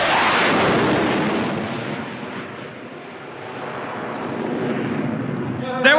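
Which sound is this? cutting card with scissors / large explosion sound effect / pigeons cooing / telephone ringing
large explosion sound effect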